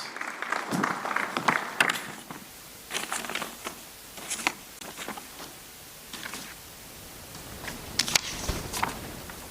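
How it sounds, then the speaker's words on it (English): Scattered audience applause at the Kenya Space Innovation and Investment Forum as the founder and CEO of Faminga is introduced, with uneven bursts of clapping rising and falling over about ten seconds, moderately loud in a large room. "Round of applause."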